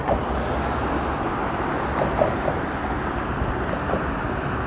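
Backed-up road traffic on Toronto's Don Valley Parkway, a steady broadband rumble of idling and slowly moving vehicles heard from a distance, continuous with faint brief clatters on top.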